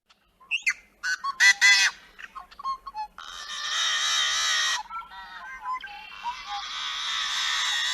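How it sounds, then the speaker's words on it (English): Yellow-headed blackbird singing in a marsh: a string of short, clipped beeping and buzzy notes, then a long harsh, raspy snarl, followed by more choppy calls and another drawn-out buzzing snarl, fairly close and clear. "our not super musical yellow-headed blackbird with that kind of beep boop wop wop and the snarl song"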